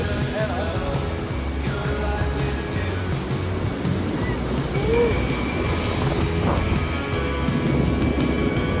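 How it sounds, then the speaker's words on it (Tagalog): Large ocean waves break at Sabang Beach in Baler, giving a continuous roaring surf with wind buffeting the microphone and faint voices mixed in underneath. "Laki ng alon guys."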